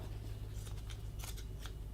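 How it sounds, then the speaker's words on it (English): Fabric scissors snip through cotton fabric scraps in a few quick, crisp cuts over a steady low hum, close and fairly quiet, with no talking. "I probably just will take my fabric scissors to cut off that top"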